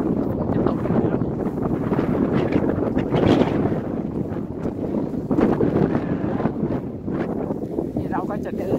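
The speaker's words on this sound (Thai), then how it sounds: "ลมแรงนะคะวันนี" Strong wind gusting outdoors beside a swimming pool in a town, roaring and buffeting the microphone in uneven surges, with someone talking over it throughout.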